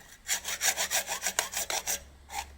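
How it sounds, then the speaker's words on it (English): A hacksaw cuts through a piece of scrap brass at a recycling session, giving about a dozen steady, close, rasping back-and-forth strokes in an even rhythm with a brief pause before the last stroke. "Why are you using a hacksaw?"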